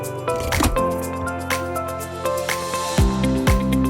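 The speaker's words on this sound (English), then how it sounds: "The distributor pours concrete according to preset parameters, while vibrating tables operate simultaneously to ensure uniform compaction" A concrete distributor in a precast concrete factory pours concrete into molds while vibrating tables run, giving a loud, continuous mechanical drone with whining tones and scattered wet thuds and squishes, with no voices.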